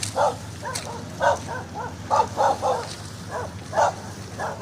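A dog barks repeatedly in short, sharp yaps, moderately close, with a steady low hum in the background.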